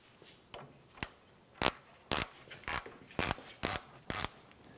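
A 19 mm ratchet loosens the radiator drain on a 2009-2019 Ford Flex, giving a handful of sharp, evenly spaced clicking bursts, close and distinct in a quiet workspace.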